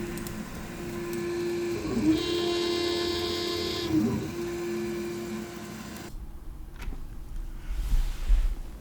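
A Sovol SV06 3D printer lays down its first layer with a steady motor whine and a brighter, higher whirring stretch in the middle. After about six seconds it falls quiet, leaving faint room noise and a few soft knocks.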